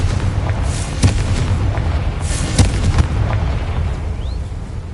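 Dense, booming blasts of the Confringo explosion spell in Hogwarts Legacy, with several sharp impacts and rumbling over a loud, continuous game soundscape.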